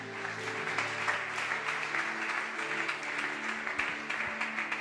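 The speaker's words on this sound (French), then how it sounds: "Acclamons les Écritures." A church congregation applauds steadily throughout, with dense, even clapping that holds at a moderate level and never stops.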